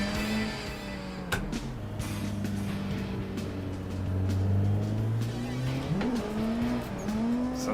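A Mitsubishi FTO Pikes Peak car with 1,361 horsepower in Assetto Corsa revs and drifts, its engine note rising and falling while tires squeal in short bursts, moderately loud and alone without talk.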